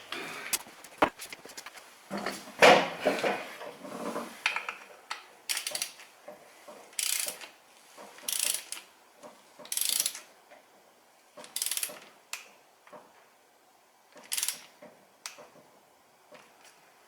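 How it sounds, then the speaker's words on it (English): Torque wrench ratcheting on the transfer case of a VW Touareg with about 123,000 km, heard as short bursts of rapid metallic clicks repeating every second or two, fairly close and alone with no talking. "Grab the torque wrench."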